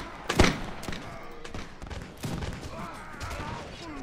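Cannon and musket fire ring out in a Napoleonic-era Mount&Blade: L'aigle video game battle, with a loud blast early on, then scattered distant shots and thuds under a continuous battlefield din.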